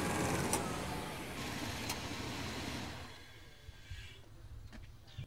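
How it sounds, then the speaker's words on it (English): A truck engine idles steadily and then shuts down partway through, its running rumble dropping away to near quiet with a few faint clicks and ticks afterward. "It's time to go ahead and shut down the truck and take a closer look at everything."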